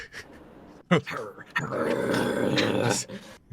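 A voice imitates a feral dog, grunting and growling in rough bursts with brief pauses between them, close and moderately loud.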